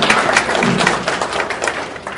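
A studio audience breaks into applause, a dense steady wash of many hands clapping at close range, holding loud and even for a couple of seconds before easing slightly at the end.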